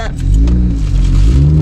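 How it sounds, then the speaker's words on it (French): A truck rumbles up from behind on a dry off-road track in the Borneo jungle, a loud low engine drone heard from inside a 4x4 while people talk. "Let's go parce qu'il y a un camion qui arrive."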